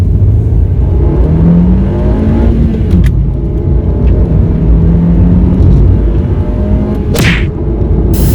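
A Honda Jazz GK5 fitted with a WK Motorsport short shifter accelerates hard, its engine rumbling loud and steady with rising revs and brief shift breaks throughout.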